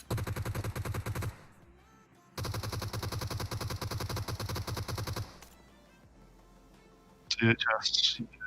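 Automatic gunfire in PUBG Mobile: two long, rapid bursts of fairly close shots, separated by a brief pause, then a shorter pause before a voice cuts in near the end.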